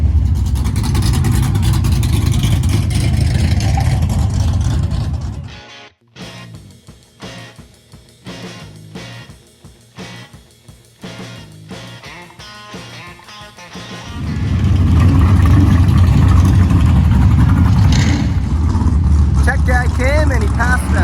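Drag racing cars, including a flathead-engined racer, roar down the strip at Western Speedway, loud engine noise that drops away briefly midway to scattered pops and clatter before the heavy roar returns.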